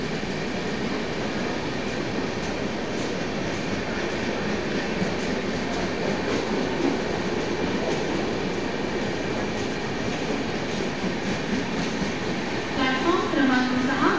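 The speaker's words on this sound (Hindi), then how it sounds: "Bye bye Dibrugarh LTT Dibrugarh express." The Dibrugarh–LTT–Dibrugarh Express passes close by, a loud continuous rumble of rolling wheels with rhythmic clatter over the rail joints, holding steady throughout, and a squeal near the end.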